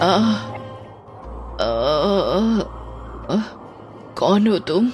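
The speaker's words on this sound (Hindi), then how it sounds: "लेखक की दर्द से कराहने की आवाज सुनाई देने लग जाती है" A man's pained groans and moans as a sound effect in a Hindi horror audio drama, coming in several drawn-out wails between short spoken lines and a low rumbling background.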